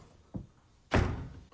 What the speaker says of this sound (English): Oh God, he finna open this door.